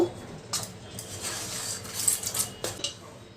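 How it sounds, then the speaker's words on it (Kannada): A spoon clinks and scrapes against a pan while rava laddu mixture is stirred, producing soft, irregular metallic taps and rustles at low volume. "ಈಗ ಇದನ್ನೆಲ್ಲ ಚೆನ್ನಾಗಿ ಮಿಕ್ಸ್ ಮಾಡಬೇಕು"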